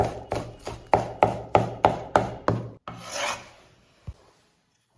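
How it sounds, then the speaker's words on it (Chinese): A knife chops green onions on a wooden cutting board in a close, quiet kitchen. About eight even, crisp strikes fall in a steady rhythm, followed by a short scrape and one lone knock. "接下来我们再来切点葱花"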